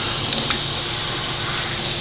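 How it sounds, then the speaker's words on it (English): Hot water running from a sink tap in a home kitchen before lathering homemade lard soap, a steady broad hiss of flowing water held for the whole stretch with a couple of faint clicks near the start. "let's get us some hot water going"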